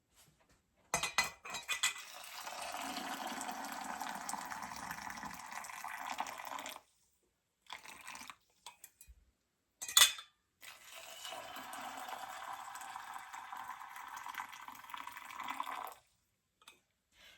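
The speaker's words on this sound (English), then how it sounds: "So now I'm going to top these off with hot water to 1-inch headspace." Hot water is poured into glass canning jars of dried black beans in long, steady streams, filling the kitchen quietly with occasional clinks of glass and metal and a brief sharp clink between pours.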